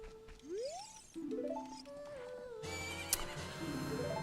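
A game horse neighs in Ocarina of Time randomizer, a rising whinny with hoof clip-clops amid layered electronic game music and effects, moderately loud and near.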